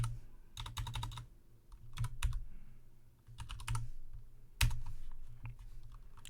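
Fingers tap out a command on a computer keyboard in uneven clusters of quiet, close clicks with brief pauses and one firmer keystroke near the end.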